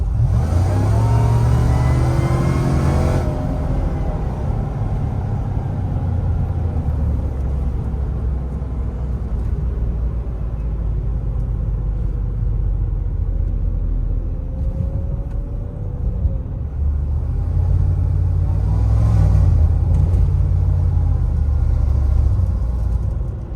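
An LT4-powered Cadillac Escalade pulls hard up to about 50 mph, its supercharged engine roaring loud and close as it climbs through the gears, with a rising whine, a steady rumble and a second surge near the end.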